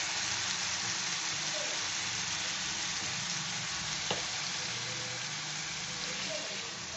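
Banana flower mixture sautéing with spices in a pan for mochar chop, a continuous soft frying sizzle with faint stirring scrapes.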